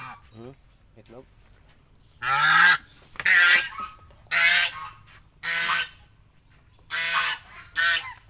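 Farm geese let out loud, close honks in separated bursts about once a second, with quieter calls and a faint steady hum between them.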